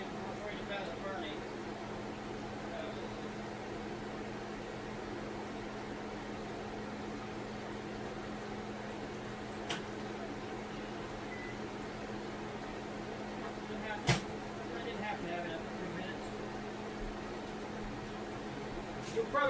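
A microwave oven runs steadily, warming pre-cooked sausages in a home kitchen, its constant hum and whirr holding level throughout, with a couple of faint clicks breaking through.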